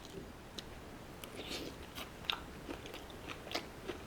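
Someone chewing a mouthful of Peruvian food served over a creamy citrus sauce, faint close-up bites and soft crunches coming in irregular bursts against a quiet background, with no talking.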